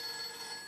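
A telephone rings briefly and steadily, a bright electronic bell tone heard alone at moderate loudness.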